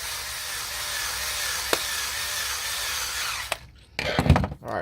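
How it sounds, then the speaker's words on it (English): A weak, nearly dead power drill drives screws into an Atari 5200 controller during a rebuild, giving a steady whirring buzz with a couple of sharp clicks, then it stops and a few quick bumps and handling knocks follow close up. "Having a drill that's almost dead actually keeps that from happening."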